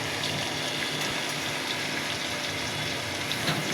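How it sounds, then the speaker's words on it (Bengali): Pangas fish is rinsed under running water, a constant, close rush of flowing water with no pauses and no voices. "এই মাছটা ভালো করে লবণ দিয়ে ধুয়ে নেবেন"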